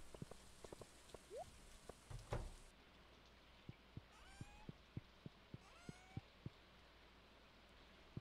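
Steady rain falls in the Stardew Valley video game, a soft continuous hiss with scattered droplet taps, accompanied by a few light game chimes and sparse ticking sounds.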